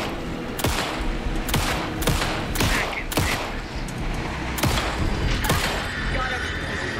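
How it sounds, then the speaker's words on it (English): Gunfire in the video game Alan Wake 2, a series of sharp loud shots spaced irregularly over several seconds amid tense game ambience, with a voice speaking in between. "Anderson, pin him down with gunfire for me to get the light on him."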